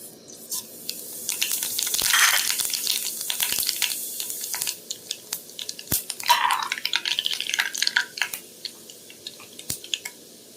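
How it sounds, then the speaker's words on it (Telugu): Cumin, mustard and fenugreek seeds crackle and pop in hot oil, with close, uneven bursts of spattering and a few sharper snaps over a steady low sizzle. No one talks. "ఆయిల్ కాగింది, జీలకర్ర, ఆవాలు, కొంచెం మెంతులు."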